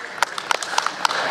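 A commentator claps his hands about five times in quick, even succession, sharp and close, over low background murmur.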